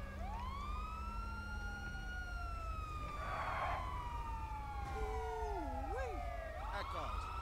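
An ambulance siren wails in the video game GTA V during a rescue mission, its tone sweeping up and down continuously and loudly over engine rumble, with brief shifts in pitch pattern near the end.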